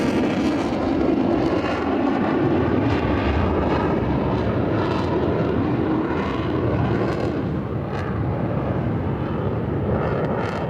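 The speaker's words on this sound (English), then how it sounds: "Made by Dassault Aviation, this is the B-01 two-seat prototype, which first flew in April 1993 and has already recorded over 850 test flights." A Dassault Rafale B-01 two-seat prototype jet flies at an airshow, a steady loud roaring engine drone that holds for the whole stretch with slight swells, alone without talk.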